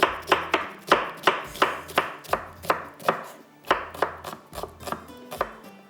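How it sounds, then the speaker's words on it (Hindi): Onions are sliced with a knife on a board while cooking aalu gosht: about twenty crisp, evenly paced chops in a steady rhythm, close and clear, with no talking. "प्याज को कटिंग कर लेते हैं"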